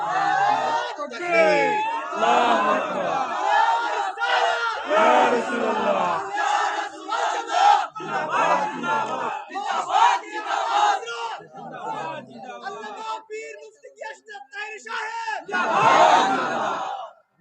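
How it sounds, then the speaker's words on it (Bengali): A crowd of young men chants a slogan in unison at a late-night religious gathering at a darbar sharif, loud massed voices rising and falling in waves for the whole stretch, with brief lulls between shouted phrases. "যুবকের হাত তুলে স্লোগান লাগান ইনশাআল্লাহ"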